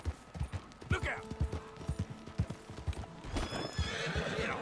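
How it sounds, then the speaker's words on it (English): In the Red Dead Redemption 2 video game, a horse's hooves clop in a quick, steady rhythm, followed by a sharp neigh and whinny near the end, fairly quiet overall. "I have no idea how to drive a horse."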